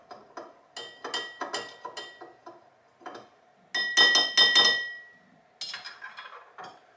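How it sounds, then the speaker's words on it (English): Ice clinks against glass as an Old Fashioned cocktail is stirred, with rapid bright clinking bursts in uneven clusters, close and clear with no talking. "You can give it a stir."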